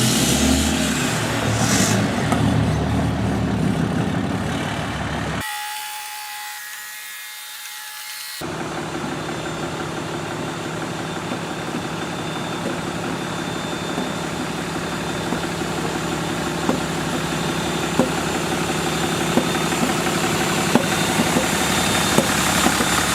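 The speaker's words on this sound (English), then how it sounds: "So the wheel and tires are starting to make a really bad popping sound" A lifted truck fitted with tiny car wheels runs with a steady engine rumble. Faint, sparse clicks and pops rise above it, and the sound briefly dulls in the middle.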